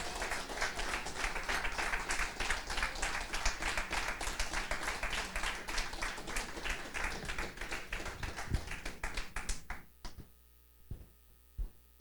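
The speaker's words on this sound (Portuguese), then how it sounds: "Quer aplaudir, amado?" A church congregation claps together in a dense, fast, sustained burst over a low electrical hum, then the clapping cuts off and only a few scattered claps sound against the hum near the end.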